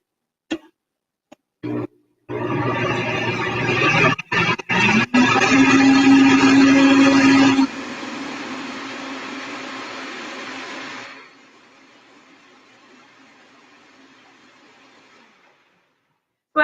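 A blender whirs loudly for several seconds blending vegan banana pancake batter, its motor pitch shifting as it churns, then drops to a quieter hum before stopping.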